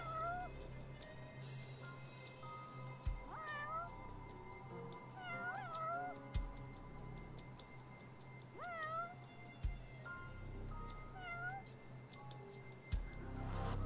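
A cat in the video game Judgment meows repeatedly, clear rising and falling cries every couple of seconds over soft background ambience and occasional thumps.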